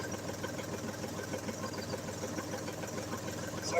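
A canal boat's engine idles out of gear while the boat drifts into a lock on a French canal, a steady, fairly loud mechanical rumble with a faint knocking pulse and no voices.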